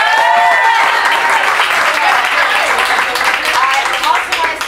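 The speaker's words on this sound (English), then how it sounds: "they really, really deserve another huge round of applause" Large audience at a siyyum celebration gives loud, sustained applause, dense clapping filling the room with a few cheers and voices mixed in.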